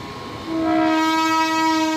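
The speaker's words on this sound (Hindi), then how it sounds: "WAG 9 लोकोमोटिव है ये। धीरे धीरे बढ़ रही है मालगाड़ी।" A WAG 9 electric locomotive of Ajni loco shed hauls a freight train slowly past new switch and doubling work between Deoband and Tapri, sounding a loud sustained multi-tone horn that starts half a second in and holds steady, with no talk.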